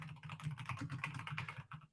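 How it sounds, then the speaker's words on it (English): Fingers tap out quick, irregular bursts of keystrokes on a computer keyboard, close and fairly quiet, with no voices. "I want to type it a little bit"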